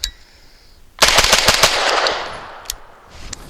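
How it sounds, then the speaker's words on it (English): Rapid fire from a Grand Power Stribog SP9 A3 carbine at a range, a fast string of sharp, loud shots after a quiet second, ending with a couple of isolated reports as the echo fades. "this is rapid fire for the purpose of looking at recoil management"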